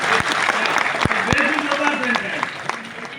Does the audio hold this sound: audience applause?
yes